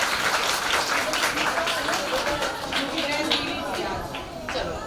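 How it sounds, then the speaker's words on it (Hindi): Applause from pupils and guests at a girls' intercollegiate school Independence Day ceremony in Jhansi, a dense steady patter of many hands clapping for about five seconds at moderate level with some voices mixed in. "उसके लिए जोरदार तालियां।"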